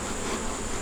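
Honey bees buzzing around an opened backyard hive, agitated after the lid comes off, a dense continuous hum close by.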